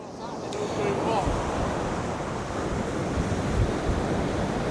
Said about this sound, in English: Some big breakers coming in there now, isn't there?